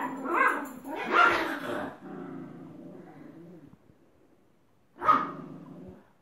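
Dogs at home bark in a few sharp, loud bursts close by, with a softer whining stretch between them and a final bark near the end.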